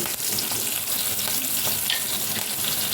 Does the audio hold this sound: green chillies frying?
yes